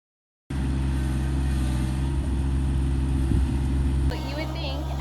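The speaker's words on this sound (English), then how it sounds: "We are using our tractor to start the trench as there is a ton of roots to deal" A tractor works in an orchard, starting a trench through a mass of sweet gum roots: a steady, loud low engine drone runs throughout, with a slight shift in tone near the end.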